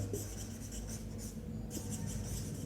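Marker or chalk strokes on a board during a classroom lesson, with short bursts of scratchy writing, a brief pause, then more strokes, faint over a low steady room hum.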